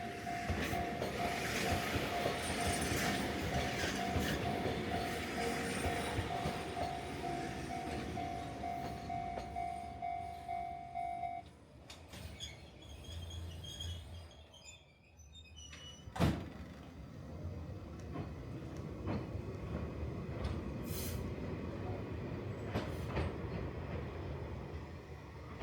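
A train in Enoshima, Japan rumbles steadily over a small overpass with a long tonal whine, then fades, followed by a sharp clank and continued rolling rail noise.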